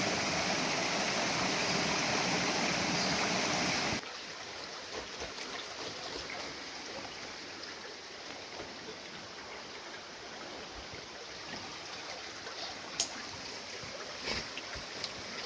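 Creek water pouring out of a hole in the rock near Australia's largest caves, a steady broadband rush that is louder for the first four seconds, then continues as a softer, even trickle with no voices.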